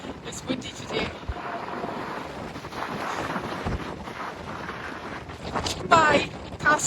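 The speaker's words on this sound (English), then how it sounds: "It's windy today." Strong gusting wind buffets the microphone while walking across the Severn Bridge over the River Severn, a continuous roaring rush with louder bursts, with no clear voice over it.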